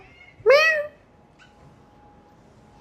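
A single loud, close cat meow with a rising then falling pitch rings out on an apartment balcony, followed by quiet room tone.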